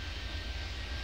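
Steady jet airliner engine roar during a takeoff in the airport control game Airport Madness 3D, a continuous loud broadband rumble with strong low end, heard alone without talk.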